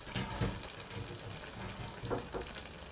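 Scallion dropped into a hot frying pan with fish fillet, giving a continuous crackling sizzle with a few brief louder spits near the start and later, and no talk.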